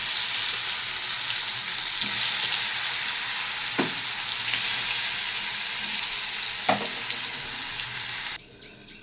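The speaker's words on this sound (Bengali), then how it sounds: "এই কড়াইতেই আমি কটা উচ্ছে ভেজে নিচ্ছি।" Bitter gourd fries in oil in a wok, a dense, loud, continuous sizzle with a couple of brief stirring scrapes, close up, before the hiss suddenly drops off at the end.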